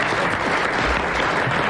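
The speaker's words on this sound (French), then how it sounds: "Bon, votre grande gueule, on l'applaudit." A studio audience on a French radio comedy panel show breaks into loud, dense applause, a steady wash of clapping that holds at full strength for the whole stretch with no voices over it.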